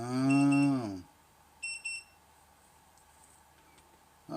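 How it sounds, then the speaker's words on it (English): An electronic device emits a short pair of bright, high-pitched beeps mid-clip, faint and clean against quiet background hum, following a louder tonal sound at the start. "Oh, something beeped at me."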